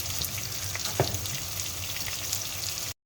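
Spice masala for potato pea pulao roasting in a pan, made with turmeric powder: a faint, steady sizzle and frying crackle with one small clatter partway through, no voices.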